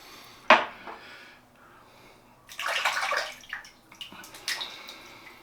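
Tap water runs briefly over a shaving razor, with a short splash near the start and a louder running burst midway, followed by a few light clinks and drips, close and fairly quiet.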